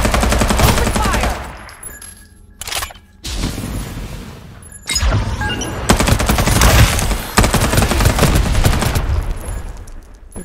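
Automatic weapon fire in the battle royale game Farlight 84, dense rapid bursts with booming shots, brief pauses near two and five seconds, then sustained loud firing to the end.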